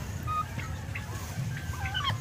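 Pet turkeys gobbling in a farmyard pen after feeding, several short rattling gobbles and clucks from close by over low background noise.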